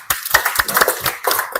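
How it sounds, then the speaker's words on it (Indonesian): A small class claps together in a short burst of applause, quick irregular hand claps close by, with no speech. "Tepuk tangan yang meriah."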